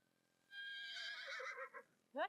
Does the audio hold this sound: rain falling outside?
no